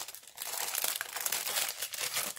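A plastic bag crinkles and rustles continuously up close as rubber stamps are packed back into it. The crackling is soft and alone, with no voices.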